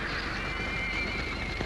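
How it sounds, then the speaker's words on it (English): A wild horse gives a single loud, drawn-out neigh over a steady wash of outdoor noise and faint hoof sounds, heard up close in an old film soundtrack. "Oh, Diablo's still a wild horse"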